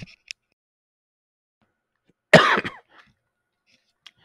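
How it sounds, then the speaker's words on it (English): A single muffled cough, close and fairly loud, breaks an otherwise near-silent stretch with only faint clicks around it, during a Star Citizen gaming session. "I tried to cough and I tried to mute it"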